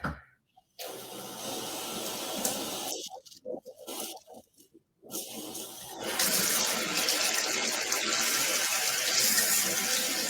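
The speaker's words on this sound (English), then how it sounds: "I'm gonna get my water going because I need hot water." Hot water running from a sink tap, with broken splashing and rumbling bursts at first, then settling into a steady, loud, close rush of flowing water for the last several seconds.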